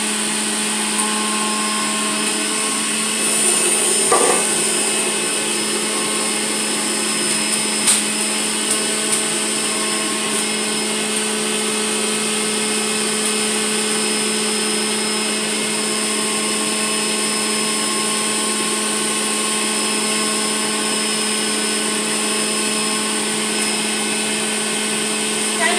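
A juicer motor runs while apples are pushed through it, a steady, fairly loud whine that holds for the whole stretch, with a few brief bumps and knocks near the start.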